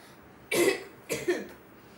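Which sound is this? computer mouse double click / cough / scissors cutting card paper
cough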